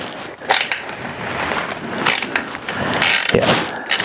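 A ratchet clicks back and forth while removing radiator bolts on a 2001 Suzuki DRZ-400, steady close mechanical ratcheting with a few sharper knocks, no talk.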